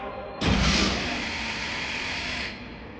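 An HGV trailer's air brakes release with a sudden sharp burst of compressed air that settles into a steady loud hiss lasting about two seconds before cutting off, heard close with no talking.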